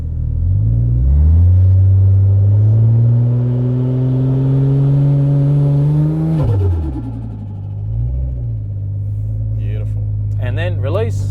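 Barra-powered Holden engine held on a transbrake with a ZF six-speed transmission, revving up to a sustained high drone that then drops back to idle, with voices talking over it.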